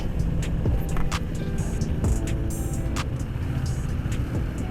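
A Ducati Monster motorcycle engine runs with a steady, loud rumble and rhythmic pulses, close and continuous over road noise, with no talking.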